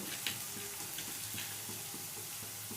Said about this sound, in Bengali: বাটা মশলাটা তেলের সাথে ভালো করে মিশিয়ে নিচ্ছি